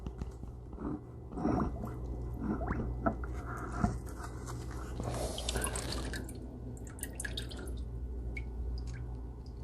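Vinegar drips and patters from a hat left to drain over a bucket while it is being cleaned, a steady scattered trickle of close, soft droplets over low background hum.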